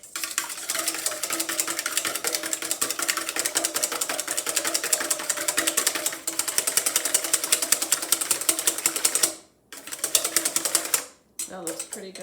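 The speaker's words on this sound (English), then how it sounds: "I'm going to whisk 2 eggs together." Two eggs are whisked together in a bowl, a fast, steady scraping rattle lasting about nine seconds, then two brief pauses before a couple more short spurts.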